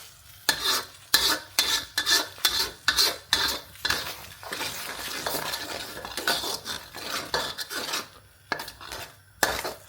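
Eggs scrambled in a hot wok for homemade dog food with brown rice and mince, a rapid run of loud metallic scrapes and clanks from a utensil stirring against the pan over a continuous sizzle.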